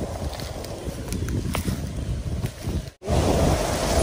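Strong wind buffets the microphone in a continuous rumbling roar, briefly dropping out before gusting again.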